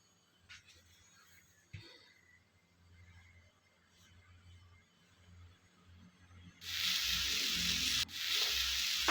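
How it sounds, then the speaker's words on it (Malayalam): Chopped ponnankanni leaves drop into a hot pan for a Kerala thoran, setting off a sudden loud, steady sizzle that holds on to the end after a quiet stretch of faint kitchen noise. "ഇനി അതിനകത്തോട്ട് നമുക്ക് അരിഞ്ഞു വെച്ചിരിക്കുന്ന ഇല കൂടി ഇട്ട് കൊടുക്കാം"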